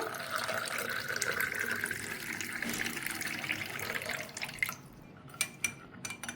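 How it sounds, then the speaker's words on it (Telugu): Water poured from a height into a vessel makes a steady splashing rush that lasts about four seconds, then thins into a few scattered drips and clinks near the end. The preparation is a home remedy for indigestion. "నీళ్ళు పోస్తున్నాను చూడండి"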